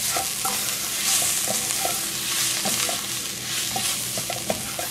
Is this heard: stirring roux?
yes